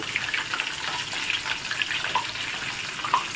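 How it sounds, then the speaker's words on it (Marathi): Medu vada deep-frying in oil in a kadhai over a high flame, a steady close sizzling hiss with small crackles and pops and no talking. "आणि तळताना मोठ्या गॅसवरतीच तळायचा"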